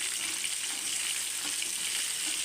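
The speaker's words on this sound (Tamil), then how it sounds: "மீனும் ஒரு சைடு வறுத்தாச்சுங்க" Fish fries in a pan, a steady, even hiss of sizzling oil that carries on without a break, close and moderately quiet, with no talk.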